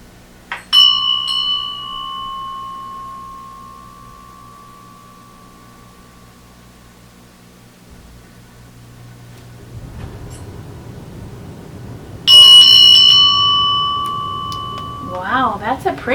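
A bell rings clearly with a bright, long-decaying tone, struck once near the start and again later, each strike ringing out slowly; a faint low hum and some rustling sit underneath.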